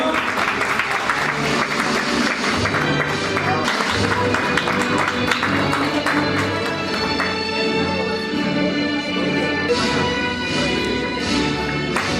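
Sustained applause from an audience at an international professional graduation ceremony in Togo, steady and dense over a continuous musical background, lasting the full stretch.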